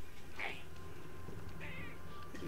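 A cat meows twice in the video game Catacomb Kids, two short, moderately loud meows over a constant background game hum.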